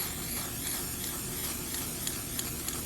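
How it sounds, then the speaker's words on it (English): A steady, loud hiss of black spray paint from an aerosol can runs continuously while painting a car engine-bay part, with a few faint clicks near the end. "So now I'm just going to spray this."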